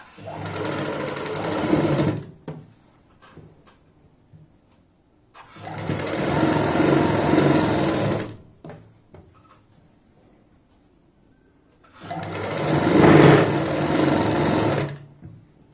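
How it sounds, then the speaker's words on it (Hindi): Sewing machine stitching fabric in three loud, sustained runs of about two to three seconds each, separated by quiet pauses with faint handling noise. "यहाँ से हम सिलाई की शुरुआत करेंगे"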